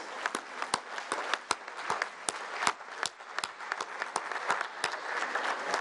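Applause for mothers at a presidential press conference in Mexico, a scattered round of clapping from a modest crowd, crisp individual claps spread evenly across several seconds, fairly close.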